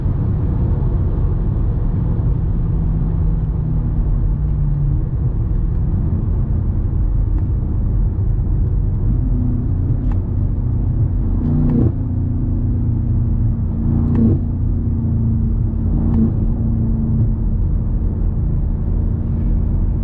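A BMW M5 Competition engine drones steadily from inside the cabin on back roads, a low continuous rumble with road noise and a few brief rises in pitch as it speeds along.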